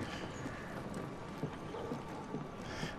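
Horse hooves clip-clop in the video game Assassin's Creed Syndicate, a quick, faint, steady beat of hoofbeats on a road under low background noise.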